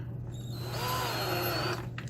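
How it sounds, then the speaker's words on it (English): A cordless drill runs steadily, threading 6-32 holes with a tap, giving a continuous whine at moderate level that eases off near the end. "Get your cordless drill out."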